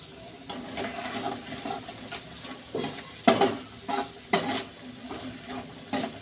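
Garlic frying with salt in a pan over oil, a soft continuous sizzle broken by several sharp, close stirring scrapes and clatters of a spoon against the pan, no talking.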